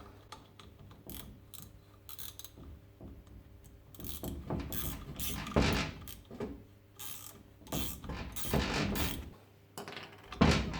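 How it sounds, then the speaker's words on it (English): A removal tool threaded into the shaft of a Saginaw GM-style power steering pump is cranked down, giving a series of ratcheting clicks and mechanical creaks in uneven bursts, close by, with no talk. "So I'll thread this in the shaft and then just crank"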